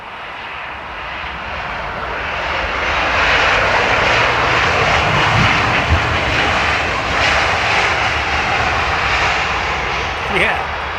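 A McDonnell Douglas MD-83 jet at London Heathrow roars with a loud, broad engine rush that builds after a couple of seconds and holds steady, close and continuous, with a voice talking underneath.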